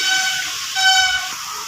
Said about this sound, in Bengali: এর মধ্যে বন্দে ভারত এক্সপ্রেসকে পাস করালাম